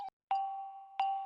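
Two clear, bright notification bell dings ring out alone, each a sharp strike followed by a short sustained shimmering ring.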